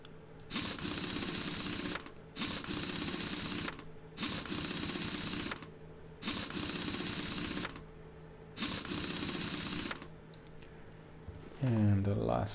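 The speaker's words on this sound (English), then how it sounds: "find the bolts, tighten them, fit the wheel" Wheel bolts being tightened on a car in Car Mechanic Simulator 2021: five even bursts of rapid mechanical ratcheting, each about a second and a half long with short gaps, ending in a brief rising tone.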